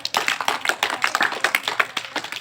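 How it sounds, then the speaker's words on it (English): A small group claps for a student in a spoken English class, a close, choppy run of quick hand claps without speech. "I would like to once more time clap for her"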